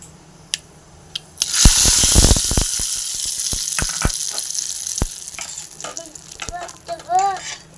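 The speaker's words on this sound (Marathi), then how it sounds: "आता तडका मी ह्याच्यात टाकते" Mustard seeds and cumin spit and sizzle as they hit hot oil for a tadka, a loud steady frying hiss that bursts in abruptly with sharp crackles and fades slightly, with a few light clinks near the end.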